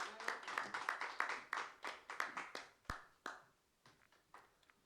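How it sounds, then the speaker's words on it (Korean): A church congregation clapping together at a Sunday worship service, a short round of fairly rhythmic applause that thins into a few scattered claps before dying out, no voices over it. "하나님께 영광의 박수를 올려드릴까요?"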